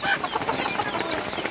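Chickens on a poultry farm clucking and calling close by, a busy overlapping flock chatter with repeated short clucks running throughout, no talk.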